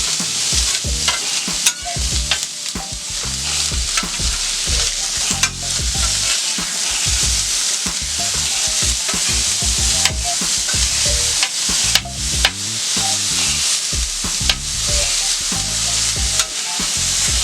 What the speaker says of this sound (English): we're just going to let this steak cook for about 2 minutes